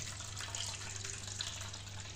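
Water splashes and swishes continuously at close range as rice is washed to remove bran, under a low steady hum, with no talking.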